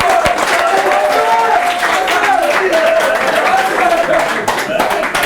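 An audience at a public talk applauds, loud mixed clapping and crowd noise running for several seconds, with voices audible through it.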